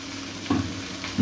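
Cauliflower, potato and carrot fry in a pan, a soft steady sizzle broken by two brief scraping stirs, close and fairly quiet with no talk.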